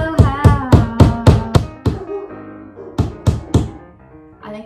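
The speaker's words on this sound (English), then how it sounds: "I think my dog thinks someone's knocking." Sharp knocking on a wooden surface at home during a hammering and nail fixing job, a quick run of about seven raps, a pause, then three more, close and loud.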